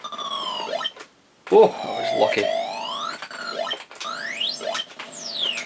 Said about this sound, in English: Sounds a bit kind of limiting to some little squawks and beeps and bleeps.